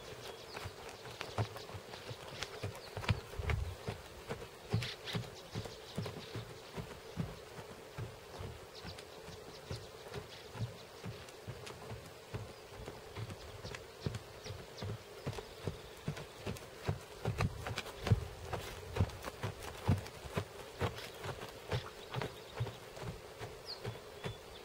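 A horse trots bareback in a steady, even clip-clop rhythm of hoofbeats, moderately distant and fairly faint, with light insect buzzing in the background.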